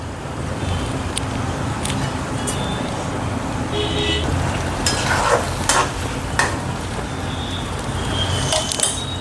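Pumpkin pieces cooking in a pan with gram flour, stirred steadily with a soft continuous sizzle and scraping; occasional clinks and faint background traffic.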